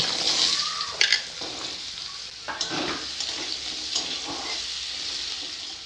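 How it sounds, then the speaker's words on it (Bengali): Potato pieces frying in oil in a kadai, a continuous close sizzle punctuated by scraping and clattering stirs at irregular intervals. "আলুগুলো ভেজে নেব"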